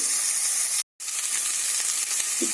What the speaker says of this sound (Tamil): நல்லா கொஞ்சம் பீன்ஸ் வெந்துட்டுருக்கு